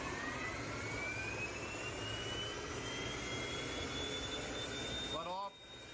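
A car with a failing CVT transmission gives a loud, steady whine with a rising pitch, much like a jet airplane taking off, sustained throughout before dropping off abruptly near the end.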